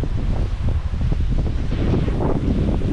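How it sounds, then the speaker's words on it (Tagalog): Strong wind buffeting outdoors, a steady loud rumbling roar with gusty swells and rustling, close to the microphone and continuous for the whole span. "Lakas ng hangin"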